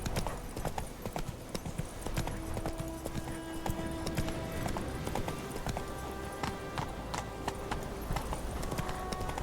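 Horse hooves trot in The Witcher 3 video game, a brisk, steady clip-clop close up, with soft game ambience and faint tonal music underneath.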